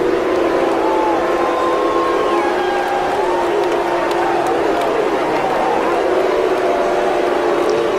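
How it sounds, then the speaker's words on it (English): A large wrestling crowd boos loudly and without a break during a Chris Jericho vs Eddie Guerrero match. Long, wavering jeers rise and fall over a dense roar, and an announcer's voice is faintly heard underneath. "Crowd in a frenzy of boos right here."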